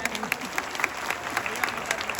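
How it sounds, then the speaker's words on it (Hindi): An audience claps at a Maha Kumbh 2025 gathering, a steady patter of many hands at moderate distance lasting about two seconds, with voices faintly mixed in. "एक बार ताली बजाइए।"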